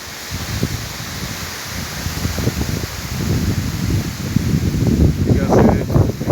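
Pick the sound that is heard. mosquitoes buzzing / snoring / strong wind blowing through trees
strong wind blowing through trees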